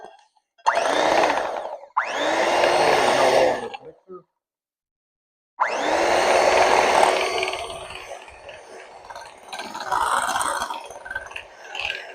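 Electric hand mixer running on low, blending a vanilla cheesecake topping in bursts that stop and restart, with a grinding whir and a short pause midway.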